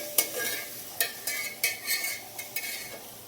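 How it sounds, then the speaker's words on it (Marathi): Onion frying in a pan for chicken biryani, a steady sizzle broken by several sharp scraping stirs of a utensil against the pan, close and clear with no talking. "व्यवस्थित लाल होईपर्यंत कांदा चांगला भाजून घ्यायचा."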